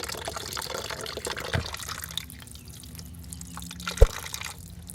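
Radiator coolant draining from a third-generation Honda CR-V, a continuous close splashing trickle of liquid with a soft drip and a brief knock, fairly loud and steady throughout.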